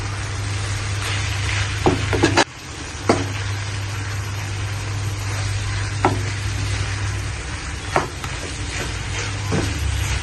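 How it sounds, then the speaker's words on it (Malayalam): Chicken thoran, a Kerala-style dry chicken dish, is stirred in a hot pan. A steady sizzle runs throughout under a low hum, with scattered sharp scrapes and clinks from the spoon. No one speaks. "ഇനി നമുക്ക് മിക്സ് ചെയ്ത് കൊടുക്കാം"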